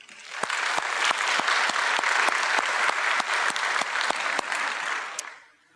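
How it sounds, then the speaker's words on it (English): An audience applauds community leaders at a school-district State of the Schools event in Forsyth County, a dense, steady wash of clapping with sharp individual claps standing out, sustained for several seconds before fading at the end. "Please give a round of applause for all our community leaders"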